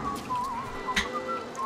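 A man whistles a tune in the video game Bioshock, a wavering melodic line carrying through most of the stretch over a soft ambient hiss, with a brief brighter accent midway.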